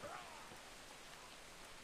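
Steady rain falls in the survival video game Atlas, a dense, even hiss at low volume with no voices over it.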